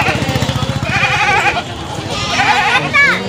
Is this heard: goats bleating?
yes